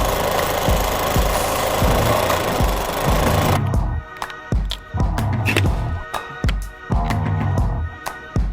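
A sewing machine stitching in a workshop, a loud, close mechanical chatter with rapid rhythmic thumps in repeated bursts, running steadily at first then stopping and starting in short runs.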